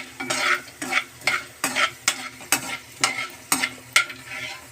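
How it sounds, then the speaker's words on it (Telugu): Coriander seeds fry in hot oil for a mandatory minute for a green chilli and coriander chutney, with rhythmic bursts of sizzling as they are stirred, roughly one crackling surge every half second, close and steady with no voices. "ఆయిల్ హీట్ ఎక్కినాక కొంచెం ధనియాలు, 1 నిమిషం పాటు ధనియాలని వేగనిద్దాం."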